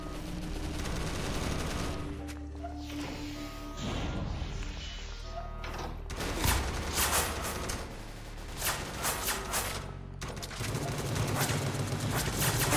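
Gunfire in an SCP roleplay game: a long stretch of loud, continuous bursts with rapid automatic volleys and scattered single shots, mixed with clattering impacts and game noise.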